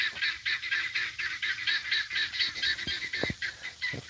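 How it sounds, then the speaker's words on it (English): A flock of geese honks continuously, loud and close, with overlapping calls in a steady rhythm. "Let's look at the geese."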